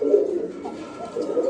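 An old pigeon gives low, soft, throaty coos in a short, close, steady run, the notes rolling together with slight swells and no voices over them.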